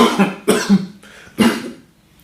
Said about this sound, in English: Like trying to cough, like coughing.